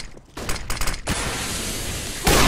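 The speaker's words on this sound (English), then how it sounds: "I'm throwing a flashbang." A flashbang grenade goes off during a Counter-Strike: Global Offensive match on Cobblestone, a loud burst of broadband crackle and explosive noise that sustains and then swells again near the end, with no talk over it.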